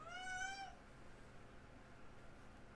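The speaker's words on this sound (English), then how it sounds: "That's another thing about this cat. Incredibly vocal." A single drawn-out cat meow, close and clear at the start, then quiet room tone.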